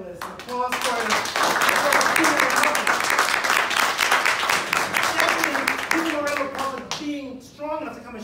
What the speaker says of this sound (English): Let's give our entire panelists applause for